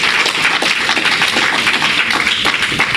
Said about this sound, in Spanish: Un aplauso a nuestro Padre amoroso.